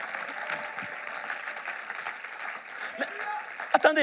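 A church congregation claps and cheers in praise, a dense, sustained wave of applause filling the room, with a voice speaking over it and a louder shout near the end.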